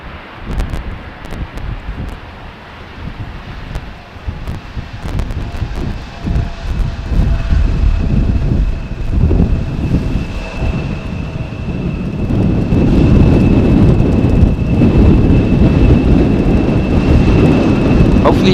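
Jet airliners come in to land on runway 18R at Amsterdam Schiphol in a gusty crosswind. The engine roar grows louder and nearer over the stretch while wind buffets the microphone.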